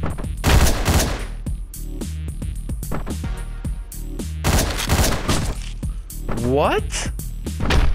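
Rapid gunfire cracks and bursts go off in the top-down shooter Hotline Miami. The shots come in dense, loud clusters mixed with other game effects, and someone talks briefly over them.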